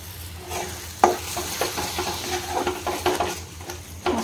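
A spice masala for a kundru (ivy gourd) dish fries in oil as a spoon stirs it, giving a soft continuous sizzle broken by scraping clicks of the utensil against the pan, close and fairly quiet.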